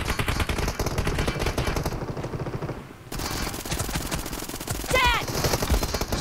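A P90 submachine gun in PUBG Mobile fires long, rapid automatic bursts, loud and close, with a brief pause before the firing resumes.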